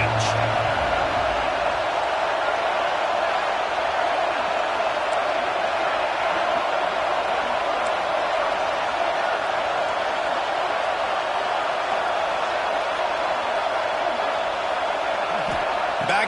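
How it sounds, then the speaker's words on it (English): A college football stadium crowd roars on a third-down play in the red zone, a dense, steady wall of noise that holds for the whole stretch while a commentator talks over it. "3rd down play in the red zone, and this crowd is at fever pitch."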